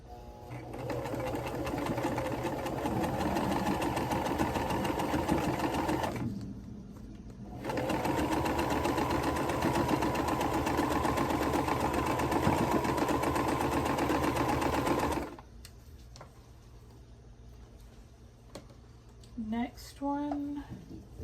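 Sewing machine stitching quilt block pieces together for a mystery block, a steady close mechanical whir with a short pause, then a second long run before stopping, followed by quiet handling sounds.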